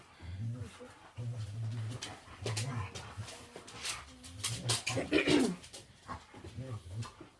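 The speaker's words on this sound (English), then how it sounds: "My dogs are going crazy over here." Several dogs indoors bark and whine excitedly, with short whimpers and yaps coming in uneven bursts. People talk at the same time.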